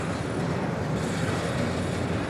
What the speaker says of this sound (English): happened to come across the train